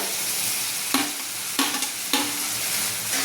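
Roasted eggplant mash (bharit) is stirred into a hot frying pan: a loud, constant sizzle runs throughout, punctuated by three firm scraping stirs against the pan, close and without any talking.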